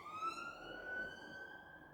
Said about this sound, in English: just let that siren go past